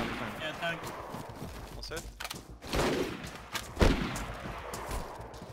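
Gunfire in the survival game DayZ: a rapid burst of shots early on, then two loud, close cracks at irregular intervals, with a voice speaking over part of it.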